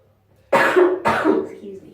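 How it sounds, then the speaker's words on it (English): Two harsh, close coughs in quick succession from one person, loud and abrupt against near silence. "I really need to cough, sorry."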